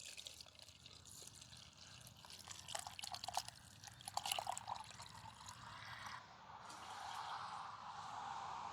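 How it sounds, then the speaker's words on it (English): A garden hose running on a very low stream rinses out a cup in a yard, a faint trickle and drip of water, quiet and close, with splashing that shifts toward a smoother pour near the end. "I've got my hose turned on just on a real low stream"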